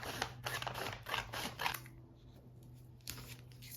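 Scissors cutting a paper dress pattern in half: a run of close, crisp snips and rustles, a short quiet pause, then another cut.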